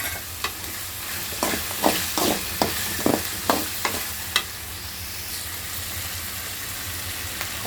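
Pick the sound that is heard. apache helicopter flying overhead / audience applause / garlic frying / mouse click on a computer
garlic frying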